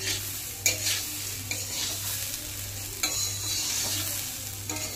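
Gobindobhog rice fries with ground spices in a pan under a steady, dense sizzle. A spoon stirs and scrapes through it, with a few sharper knocks against the pan.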